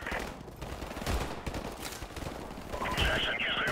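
Rapid machine gun bursts crackle through a Call of Duty: Modern Warfare firefight, dense and continuous across the moment, with shouted voices and other battle noise layered over the gunfire.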